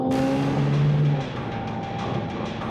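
A car pulls away and accelerates during a roadside confrontation with a truck driver, its engine revving loud and close at first, then settling into a steady, slightly softer drone as it drives off.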